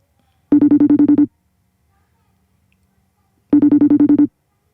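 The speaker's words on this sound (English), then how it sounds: "I think it's ringing now." A phone rings for a call-in on a podcast, with two loud bursts of rapid trilling rings about three seconds apart and near silence between them.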